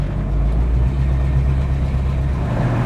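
A 1965 Ford Mustang Fastback running as it drives around 40 mph on a sunny Daytona Beach road, a steady, deep engine rumble with road noise, loud and continuous throughout with no talking.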